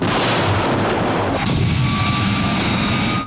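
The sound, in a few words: explosions around a jet in a TV puppet show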